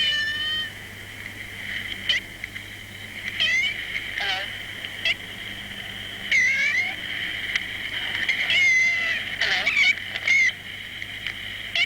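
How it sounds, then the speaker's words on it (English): A cat with oddly half-human tones meows and yowls repeatedly over steady hiss and hum from an old portable tape recording, each cry a short, wavering call at close range. "one time we came across this cat, and it seemed to talk in half-human tones"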